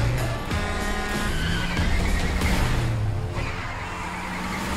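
A car drifts with skidding, squealing tires in a Hobbs & Shaw action trailer, the screeching loud and continuous over roaring engine and dense music for about five seconds.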